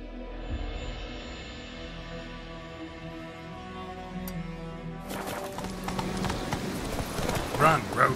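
In The Witcher 3: Wild Hunt, the horse Roach breaks into a gallop, rhythmic hoofbeats rising from quiet clopping to a busier, louder drumming, with game music and a voice talking over it.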